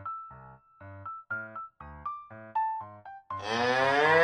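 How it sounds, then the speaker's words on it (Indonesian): A cow gives one long, loud, close moo with a rich, droning tone, right after a short sequence of chiming melody notes. "Hewan ini namanya sapi."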